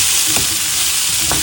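Broccoli stir-fry sizzles steadily in a hot pan while a spoon scrapes through it in two brief strokes, close and fairly loud, with no voices.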